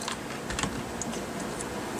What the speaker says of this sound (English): just snip the ends with your fancy scissors